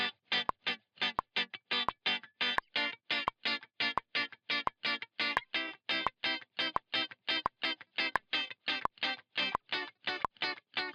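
Electric guitar bar chords played through a default Logic amp strike in a quick, even, choppy rhythm of short distorted stabs, each cut off cleanly, moving up the neck.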